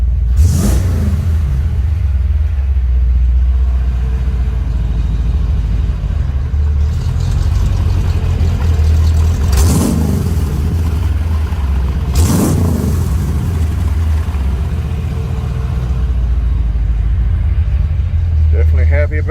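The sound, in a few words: 1956 Ford F-100 engine running and revving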